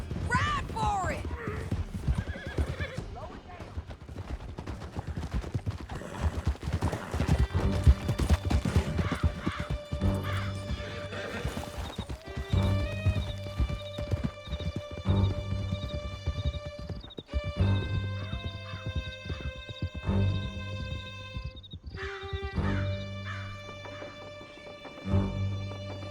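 Horses gallop in the Red Dead Redemption 2 video game, with steady hoofbeats under loud music that swells and shifts, plus occasional game voices and a whinny.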